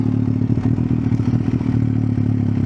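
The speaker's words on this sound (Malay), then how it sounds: "Ni bunyi exhaust" A Kawasaki H2 motorcycle idles with a deep, bassy exhaust rumble, steady and close, with a slight uneven throb and no talking.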